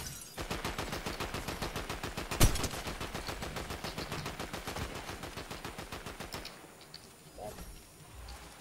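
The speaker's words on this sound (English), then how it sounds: "Some enemies shooting at each other, so we have height on them." Enemies trade fire in Fortnite, heard as a long stretch of steady rapid gunshots at moderate distance with one sharper, closer crack partway through, and talk over the top.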